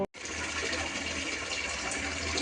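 Tap water gushes steadily into a large pot being filled for boiling noodles in a home kitchen, a loud, continuous splashing rush that starts abruptly after a brief click and runs without pause.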